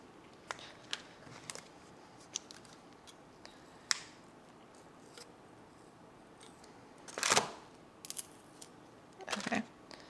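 Scissors cut through a hoya plant during repotting, giving a few sharp snips and small clicks spread over quiet moments, with two louder crunchy cuts near the end, close and alone.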